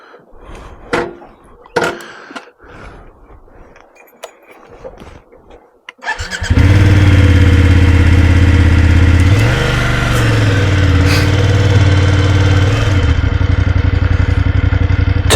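A motorcycle on a ride from Chile Chico toward the Argentine border fires up after some nearby clatter and handling noise, then settles into a loud, steady close-range idle with a brief rev dip midway.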